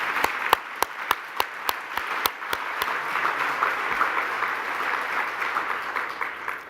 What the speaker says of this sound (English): thank you everyone for applauding that